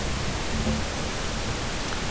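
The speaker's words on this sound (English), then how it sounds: "they'll solo pink noise, they'll set the level for it." Pink noise test signal for mix calibration in a studio: a constant, even hiss spread across the whole range, loud and steady with no variation for its full length.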